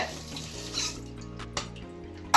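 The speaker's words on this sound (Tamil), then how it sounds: "கொஞ்சம் கையை நல்லா கழுவிட்டு" Hands washed under a running kitchen tap while preparing fish masala, with a steady close stream of water splashing into a sink and brief louder splashes.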